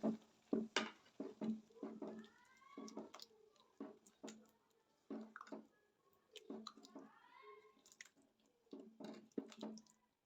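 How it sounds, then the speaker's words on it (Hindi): Whisked yogurt is stirred into a Balochi karahi with soft, wet squelches and dabs in short, irregular bursts. A quiet voice can be heard at times. "दही डाल के फ़ौरन से इसको मिक्स कर देंगे"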